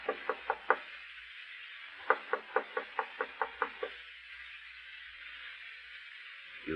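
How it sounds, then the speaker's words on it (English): Knocking on a door in an old radio drama: a quick run of four raps, a pause, then a longer series of about eight even knocks, crisp over a faint background hiss. "You'd better answer the door, my friend. Our visitor is here."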